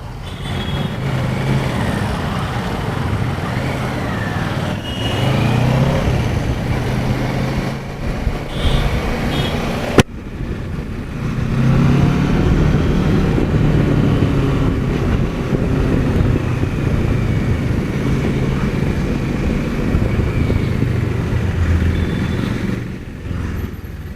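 Kawasaki Versys 650 motorcycle engine running at mid-range RPM on a test ride, a steady, fairly loud drone under heavy wind rush, with a brief break near the middle before the engine picks up again.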